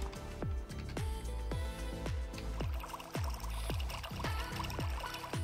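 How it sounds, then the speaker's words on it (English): Water pours from a working shower built in vanilla Minecraft, a steady splashing stream with repeated sharp dripping plinks falling in a regular rhythm throughout. "Now you should have a working shower in vanilla Minecraft."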